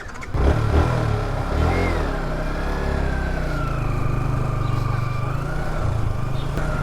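A V4 motorcycle revs on a trial ride, its engine note rising and falling in a steady mid-pitched drone that swells near the start and holds throughout, close and prominent with rising whine tones.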